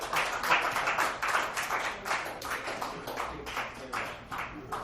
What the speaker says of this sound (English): Another round of applause for Ben Rosen.